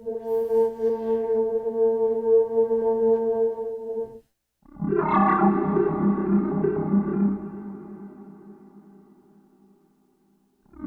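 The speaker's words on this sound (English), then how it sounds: "we can hear the filter opening and closing in the shape of the envelope." Torso S-4 sampler with its filter opening and closing along an envelope: a held synthetic tone, a brief gap, then a brighter swelling burst that slowly darkens and decays, with no talking.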